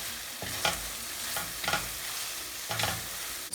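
Shrimp with garlic, chili and dill is stirred in a hot pan, with three distinct scraping strokes over a gentle, constant sizzle, close and fairly quiet.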